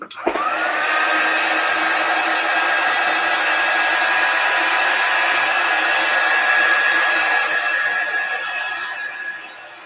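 A handheld hair dryer blows on chalk paste over a box frame craft piece, a loud, steady whooshing roar with a constant whine that runs unbroken for about ten seconds before easing slightly.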